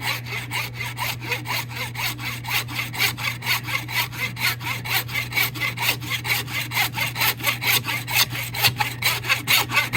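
A hand saw cuts through a deer skull toward the eye sockets, giving a loud, close, rhythmic back-and-forth rasp of steady strokes that speed up slightly, with a constant low hum underneath.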